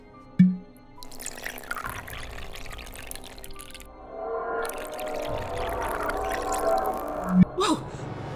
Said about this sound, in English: the cork flew right out of my hand